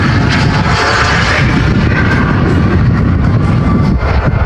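An RC model F4 jet with dual turbine engines runs at a jet rally, a loud, continuous roaring whine close by with no pause.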